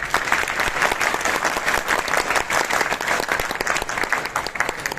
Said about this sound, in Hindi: डॉक्टर लिन के लिए तालियां बजाई जाए